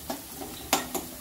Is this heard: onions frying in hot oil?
yes